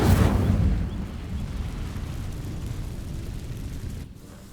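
An Incendio fire spell bursts into flame against dry vines in Hogwarts Legacy, a loud whooshing blast at the start that settles into a sustained low roar before fading away.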